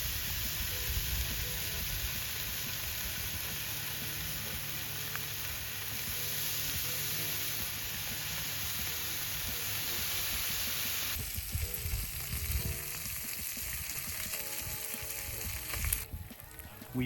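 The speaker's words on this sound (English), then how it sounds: "we are making eggs and bacon" Eggs and bacon fry on an electric griddle powered from a Cybertruck bed while camping, a steady crackling sizzle that runs throughout at moderate level, growing busier with scattered pops toward the end.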